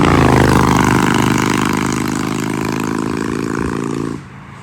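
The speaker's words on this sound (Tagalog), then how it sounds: "May motor dito." A motorcycle passes loudly and close on an evening highway, its engine roaring steadily before dropping away abruptly near the end.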